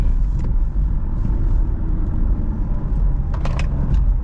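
A car with about 100,000 km on it being driven, its engine giving a steady low rumble with road noise throughout, close and fairly loud, plus a couple of brief higher rattles near the end.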